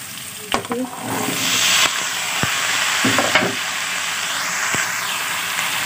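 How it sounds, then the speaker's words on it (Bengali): Beans and potatoes frying in a pan while being stirred, a loud continuous sizzle broken by sharp scraping and clacking strokes of a spatula against the pan. "বিনসটা দিয়ে আমি ভালো মতো নেড়ে চড়ে দিয়ে দেবো"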